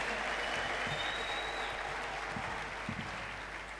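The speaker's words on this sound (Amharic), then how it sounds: "ጭብጨባ ይስማል።" A church congregation claps during a sermon, producing a steady, even patter of applause that stays fairly soft and distant, with faint voices mixed in.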